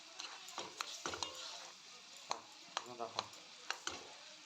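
Raw mango pieces being pressed and stirred with sugar in a pot for mango jam, a series of close clattering knocks and scrapes of a spoon against the pot at an irregular pace, with no talk.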